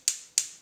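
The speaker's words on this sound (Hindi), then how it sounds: "चूल्हा ऑन करेंगे" A kitchen gas stove is switched on with three sharp, evenly spaced igniter clicks in quick succession, crisp and close.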